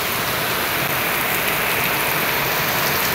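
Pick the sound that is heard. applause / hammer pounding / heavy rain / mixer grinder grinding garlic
heavy rain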